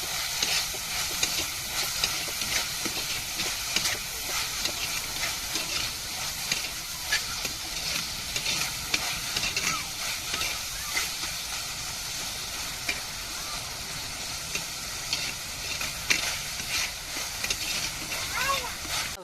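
Onions and tomatoes sauté in a pan for a macaroni pasta dish, a continuous sizzle with scraping and stirring throughout, while someone talks over it.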